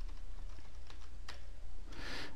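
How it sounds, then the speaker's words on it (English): A few scattered key taps on a computer keyboard as search criteria go into a grid component, soft and close, ending in a short burst of quicker typing. "type in some search criteria"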